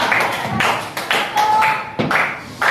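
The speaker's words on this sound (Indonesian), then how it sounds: "Teman-teman bantuin tepuk-tepuk ya." In a grade twelve classroom, classmates clap their hands in short bursts, about six rounds of claps spaced roughly half a second to a second apart, close and fairly loud.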